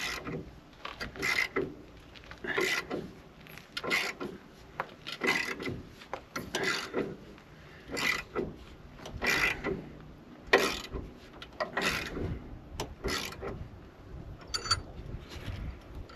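A wrench working a bolt during front-wheel maintenance on a Firebird gives a run of repeated ratcheting and rubbing clicks in short bursts, close and fairly loud, with no talking.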